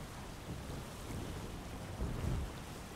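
Stormy sea in the video game Windbound, with a steady roar of wind and rain and low rumbling thunder that swells around the two-second mark, no voices.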